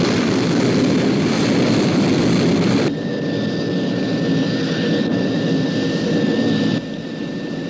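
The Sky 1 interceptor aircraft from the UFO TV series roars in flight, a loud continuous jet rush that drops in level twice, with a thin steady whine running through the middle.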